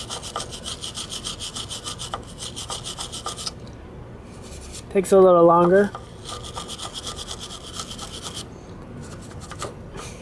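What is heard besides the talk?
wire brush scrubbing scooter parts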